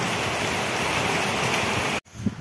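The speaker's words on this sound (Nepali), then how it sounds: "यत्रो पानी पर्दैछ गरङ गुरुङ गरिरहेको छ" Heavy rain pouring down in a village in Dzongu, a dense, steady hiss of rainfall on surfaces that cuts off abruptly near the end; no thunder is evident.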